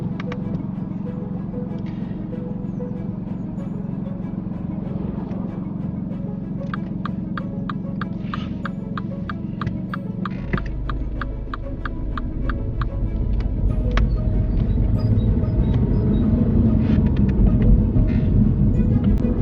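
A learner car pulls away on a UK mock driving test in Gateshead, its engine rumble rising and thickening from a steady idle hum as it moves off, with faint ticking above the low drone and no talk.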